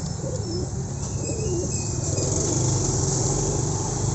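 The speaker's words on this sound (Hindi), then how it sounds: "बिल्कुल सेहतमंद परिंदे हैं" A breeding pair of pigeons for sale in Faisalabad coo in low rolling bursts, fairly close, over a steady background hum with no talking.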